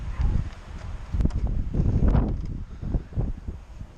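Gusty wind buffets the microphone outdoors at a Nerf blaster shooting session, low rumbling bursts that swell and fade over a few seconds with rustling texture.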